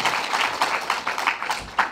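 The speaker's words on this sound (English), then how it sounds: "Let's give them some applause for all the work that they've done" Audience applause at a talk on psychiatric drug risks and harm reduction, heard as steady clapping from a crowd throughout the clip with no break and no talking.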